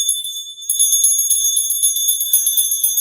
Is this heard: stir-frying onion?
no